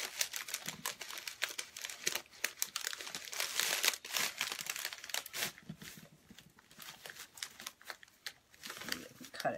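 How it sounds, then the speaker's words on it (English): Dry basket grass filler crinkles and rustles as handfuls are pressed and stuffed into a basket, a close, quiet run of irregular crackling bursts with brief pauses. "I'm just going to take some of this grass and kind of stick it down in there."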